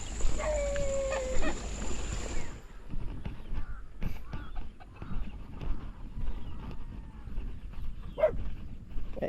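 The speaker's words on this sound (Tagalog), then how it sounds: "Daming aso." Several dogs bark in a rural garden setting with chickens kept nearby. The barks are moderate, scattered and repeated over steady outdoor noise, along with a brief tonal call near the start.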